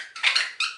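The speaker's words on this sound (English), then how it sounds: "It's very squeaky pepper." A squeaky pepper grinder being twisted over food, giving two short, shrill, scraping squeaks in quick succession, close and clear with no talk.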